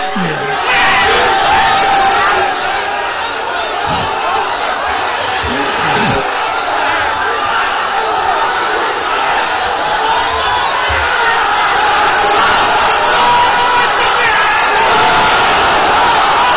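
A large crowd at an annual religious gathering roars back a Naraye Takbir chant, loud sustained collective shouting that fills the whole stretch without pause.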